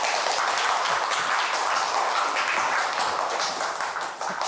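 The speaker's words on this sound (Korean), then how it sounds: "박수 부탁드립니다" An audience at a lecture on local autonomy claps steadily for several seconds, a dense even patter of applause without voices.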